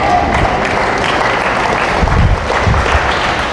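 A church congregation gathered for an anniversary service in Cupang, Muntinlupa, applauding: dense, loud, continuous clapping from a large crowd filling the room, with no speech over it.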